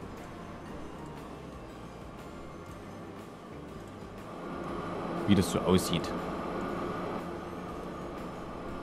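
A train runs along a line in the video game Train Fever, a steady low rumble with a short metallic squeal near the middle, heard under someone speaking briefly.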